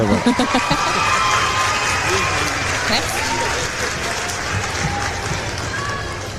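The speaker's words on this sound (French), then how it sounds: "Applaudissements" A convention crowd at a geek festival applauds with scattered cheers and shouts, a steady wash of clapping that carries on under overlapping voices.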